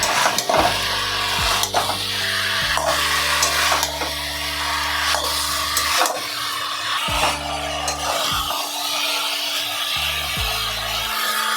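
Note greens sauté with ground coriander and cumin in a pan, giving a continuous sizzle broken by scraping stirs and clanks. A low steady hum drones underneath and cuts out several times.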